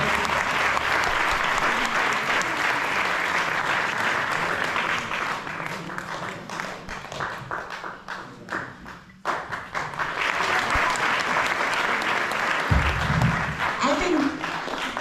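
An audience at a Republic Day commemoration by a Hindu council applauds at length, a thick, sustained roar of clapping that dips briefly midway, then swells again while a voice speaks near the end.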